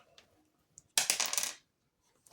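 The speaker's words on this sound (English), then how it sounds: "I'm going to roll my 4-sided dice" A four-sided die is rolled onto a surface, giving a close, bright clatter of roughly half a second with a few quick bounces, followed by small faint taps.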